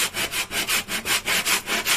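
A boat's wall is sanded by hand in rapid rhythmic back-and-forth strokes, about five per second, a close, loud scratchy rasp repeating steadily with no talk.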